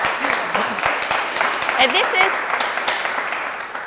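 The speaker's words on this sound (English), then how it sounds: "can everybody here just please clap?" People in a conference keynote room clap together in a sustained round of applause, while a voice keeps talking over the clapping.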